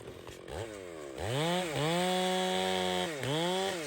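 A chainsaw revs and bogs as it cuts limbs off felled timber in the woods, its loud engine whine rising and dipping through repeated throttle surges, close by and alone.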